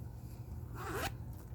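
A quick zipper pull runs along a small quilted zippered pouch fitted with a charm, one short rising zip heard up close and quiet against a faint room hum.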